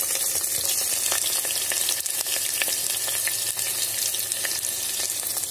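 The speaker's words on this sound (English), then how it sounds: "Now fry till the onion turns light golden color" Onions frying in oil inside an electric kettle for bhindi masala, a dense, steady sizzle with frequent sharp scraping and tapping clicks from stirring, close and loud, with no talk.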